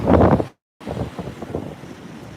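Strong 15 to 20 mph west winds from Hurricane Dorian at Flagler Beach Pier buffet the microphone, loud roaring bursts with a brief dropout, the wind whooshing over a faint wash of surf.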